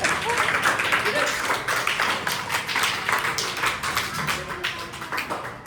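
An audience at an Engineers Day celebration claps in a dense, steady patter throughout, close and lively, with voices mixed in beneath the applause.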